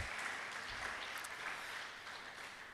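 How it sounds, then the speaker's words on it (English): Audience applause at an architects' institute chapter event in Abuja, heard as a faint, even spread of clapping from a distance that holds steady for the whole short stretch. "A round of applause again."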